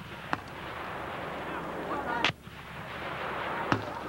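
Three sharp, separate reports from a 40 millimeter launcher fired at a target during army basic training, spaced roughly a second or more apart and ringing out over steady outdoor background noise.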